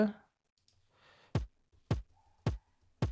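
A layered kick drum sample soloed and shaped with EQ and a gate, striking four tight, punchy hits at an even pace after a brief stretch of quieter noise.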